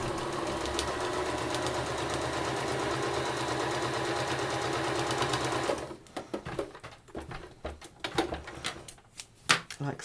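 A sewing machine stitches quilted fabric in a steady, close, rapid whir for about six seconds, then stops, leaving scattered clicks and handling knocks.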